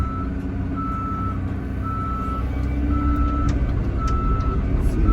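Truck reversing beeper at a construction site, a steady series of evenly spaced loud beeps repeating over a rumbling diesel engine, close by with no talk.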